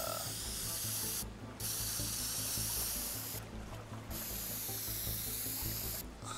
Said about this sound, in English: Oh, yeah, spray can.